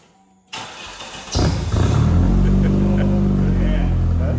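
A Dodge Plymouth Spirit with a modified exhaust starts up, then rises into a loud, raspy rev that holds steady at close range. Brief speech comes just before the engine.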